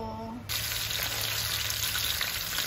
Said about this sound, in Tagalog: iprito ko tong chicken hanggang sa mag-golden brown lang siya